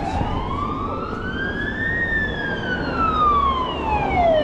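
A fire engine siren wails as it passes along a street, its long rising and falling sweeps loud over steady traffic rumble, with no talk.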